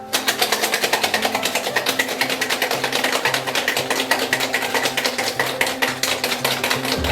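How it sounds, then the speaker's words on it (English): A whisky sour is shaken with ice in a cocktail shaker, producing a fast, even rattle of rapid clattering pulses that runs nonstop and loud for about seven seconds. "And I'm just going to shake it for about 10 seconds."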